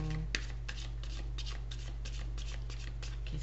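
Tarot cards are shuffled in a quick run of crisp, papery riffles and slides, close and moderately loud over a steady low hum, with no speech.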